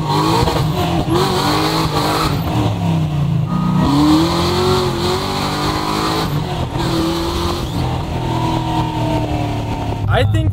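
A supercharged 1969 Chevelle accelerates hard with its engine roaring loud and close and its tires spinning without traction, the pitch rising and falling through the run while people talk over it inside the car.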